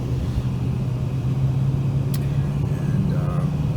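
Steady in-car engine rumble with road noise in a 2007 BMW 650i, a constant low drone throughout as the car cruises along.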